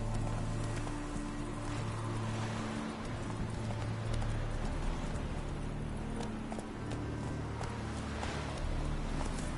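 The horse Roach trots in a video game, with steady, rhythmic clip-clop hoofbeats continuing throughout over a low ambient hum.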